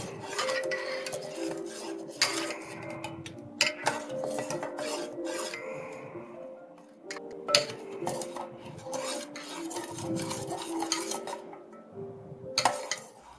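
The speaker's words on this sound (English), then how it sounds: "what I'm going to do is start stirring the ingredients" Spoon scraping and clinking against glass while ingredients are stirred into anointing oil in a bottle, a steady rasping swirl broken by sharp clinks, close up with no talking.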